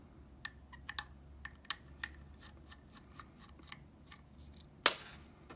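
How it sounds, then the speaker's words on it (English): Phillips screws being backed out of a PS4 Slim hard drive mount, a quiet series of small metallic clicks and ticks from the screwdriver, ending in a sharper clack as a part shifts. "We're going to remove the four Phillips screws that hold it in place."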